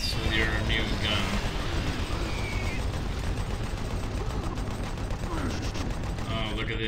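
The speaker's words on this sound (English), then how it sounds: "You just get in here and you get to go full freaking blast on these dudes with your new gun." Rapid bursts of gunfire from a new gun in Doom 3 on Nightmare mode, dense and loud against clanking game sounds, with someone talking over it.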